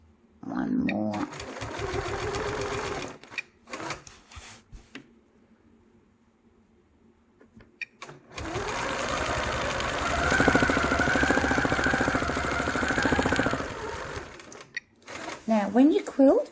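A sewing machine runs in steady, fast free-motion quilting along a ruler on a quilt border, one long continuous stretch of stitching after a brief earlier burst, with someone talking before and around it.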